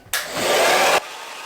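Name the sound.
blow drying hair with a hair dryer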